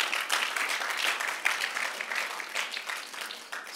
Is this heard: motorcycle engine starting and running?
no